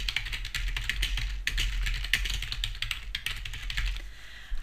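Someone types an article into a WordPress editor on a computer keyboard, a fast, continuous patter of close, clear key clicks with a steady rhythm, heard alone without talk.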